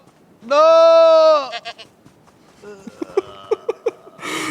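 Goat bleating in a television drama, one long loud wavering bleat followed by shorter broken calls and a series of quick stuttering bleats, close and clear.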